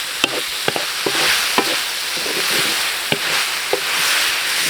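Pork eggs with curry being stir-fried in a pan, giving a steady loud sizzle with sharp scraping and clinking strokes of the utensil at irregular intervals, close up and without talk.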